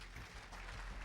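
Brief round of audience applause at the Pierres d'Or 2012 awards ceremony, a soft, dense wash of many hands clapping steadily at a fairly distant, low level.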